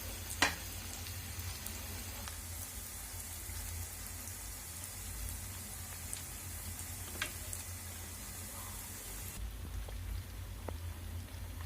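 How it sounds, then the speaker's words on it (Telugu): Bread pieces fry in a pan of hot fat for Andhra bread halwa, a steady close sizzle with scattered crackles and pops, one sharper pop near the start, continuing evenly without any voices. "ఇవి బ్రౌన్ కలర్ వచ్చే వరకు ఫ్రై చేసుకోవాలి ఫ్రెండ్స్."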